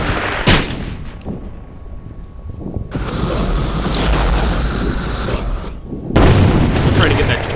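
Tank cannon fire in the strategy game Order of Battle: Blitzkrieg, with a sharp boom early on, then a sustained rumbling explosion and a second heavy blast near the end, loud and close.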